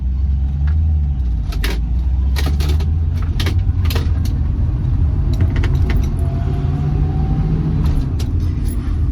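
A 1973 Ford Maverick with a faulty rear end makes an awful brake noise: metallic jangling and scraping over a loud, steady engine and road rumble while driving, with a faint rising whine partway through.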